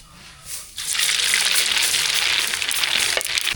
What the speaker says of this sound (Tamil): இப்போ தாளிப்புக்கு வந்து என்னெல்லாம் சூடாச்சு கடுகு சேர்த்துக்கலாம்